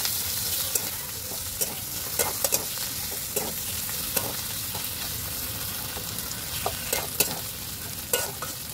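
Ginger-garlic paste and ground coriander-cumin paste fry and sizzle in a pan, a steady broadband hiss with scattered sharp clicks and scrapes of stirring throughout, close and fairly quiet, with no talking.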